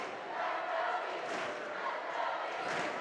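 A gym crowd at a high school boys basketball playoff game cheers and shouts in a steady, loud roar that swells and surges across the moment, with a commentator's voice faintly mixed in.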